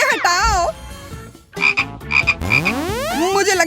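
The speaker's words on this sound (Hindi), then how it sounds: "एक मेढक। ओ, भाग गया।" Loud, close frog croaks in a rapid series of warbling, rising and falling calls with short gaps between bursts, alone without talk.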